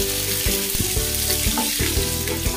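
Green chillies, curry leaves and cumin frying in a pan for a tomato and ivy gourd chutney, a loud continuous sizzle with regular stirring knocks throughout.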